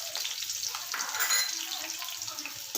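A large chopped onion frying in oil in a pan for prawn rice, a steady near sizzle with light stirring scrapes, no voices.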